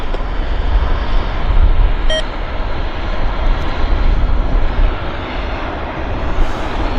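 An airliner taxiing at Vancouver airport, a loud continuous roaring jet engine rumble with a brief electronic beep, no voices.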